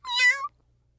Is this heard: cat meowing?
yes